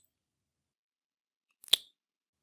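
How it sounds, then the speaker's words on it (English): A single short, sharp lip smack in an otherwise silent voice recording, a crisp wet click lasting a fraction of a second. "A lipsmack sounds like this."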